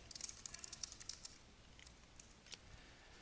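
Typing a reply on a computer keyboard, a quick run of light clicking keystrokes close by, quiet and without talk, then a few scattered taps after a short pause.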